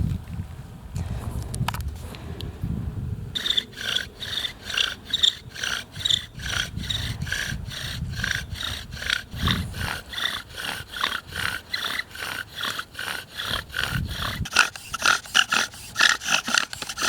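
A wooden bow drill spindle is sawed back and forth to make fire, giving a rhythmic, close squeaking rasp of repeated strokes that quickens partway through, with occasional soft breathing and rustles.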